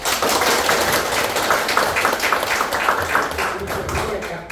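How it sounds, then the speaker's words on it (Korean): An audience at a certificate ceremony applauds: dense, steady hand clapping from many people fills the room continuously at close range. "박수 한번 주시죠"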